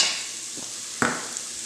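Celery, onions and carrots sauteing in a soup pot for white bean soup, a soft steady sizzle with a couple of brief spoon scrapes, close and moderately quiet.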